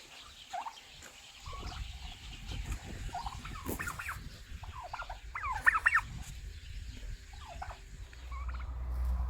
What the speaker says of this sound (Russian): Здесь находятся домашние и белые широкогрудые индейки.